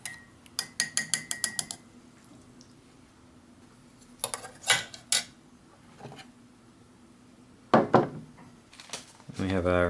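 Spoon stirring instant cappuccino from a Canadian IMP meal pack, a quick run of rapid metallic clinks against the cup, then a few scattered taps and clatters with quiet gaps between them.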